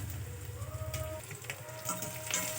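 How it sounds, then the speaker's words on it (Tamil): Onions, garlic and curry leaves sautéing in hot oil after mustard seeds have popped, heard as a steady close sizzle with light stirring scrapes in a pan, no talk. "நல்லா வதக்கி விட்டுக்கோங்க."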